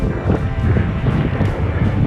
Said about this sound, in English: It's got incredibly windy up there.